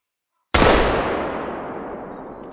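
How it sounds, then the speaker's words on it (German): A single loud rifle shot in theHunter hunting game in the Vurhonga Savanna, a sharp deafening crack followed by a long decaying echo, alone with no voices. "Die neue Knifte hat natürlich auch ja, einen ziemlich ohrenbetäubenden Knall."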